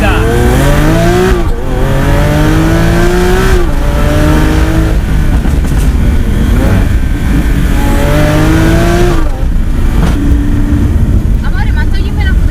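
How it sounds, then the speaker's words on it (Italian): Lamborghini Aventador S V12 revving loudly up and down in repeated rising sweeps, close by, with a person talking over part of it. "tutti chiedono di sentire questo V12, patrimonio dell'umanità."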